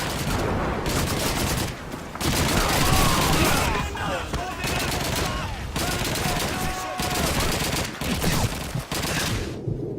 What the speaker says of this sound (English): Oh, that was a lot of grenades.